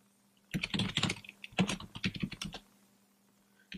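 Quick bursts of keystrokes on a computer keyboard as a MySQL console password is typed, close and clear, in two short runs of rapid clicks followed by a final key press, with no talking.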